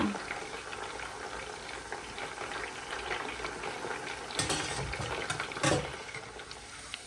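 Pieces of pork deep-frying in hot oil, a steady dense crackling bubble with a couple of brief louder bursts of sizzle, close and continuous.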